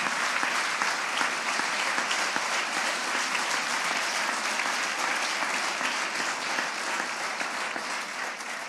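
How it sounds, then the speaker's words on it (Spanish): Sustained audience applause at a Podemos political event presenting a guaranteed income proposal, dense and steady from start to finish with no voices standing out. "un aplauso para vosotras"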